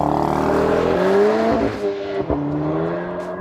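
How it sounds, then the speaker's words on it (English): A Volkswagen MK8 engine revs and holds high RPM with the brake on before an anti-lag launch, a loud, close, droning note that climbs and wavers with brief dips. "lay on the gas, you'll start hearing the RPMs go"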